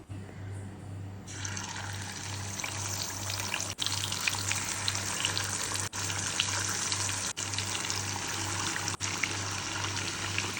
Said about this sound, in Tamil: ஃப்ரிட்ஜில் இருந்து சிக்கனை வெளியில் எடுத்துட்டேன். இனி அதை ஃப்ரை பண்ணிக்கலாம்.